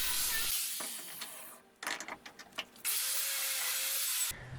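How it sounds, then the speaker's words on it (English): Wire wheel on a power tool grinding scale and flux residue off welded steel on a homemade weeding tool, a loud steady abrasive whir in two long bursts broken by a short stretch of scratchy scraping. "followed by some wire wheeling to remove any scale or flux residue from welding"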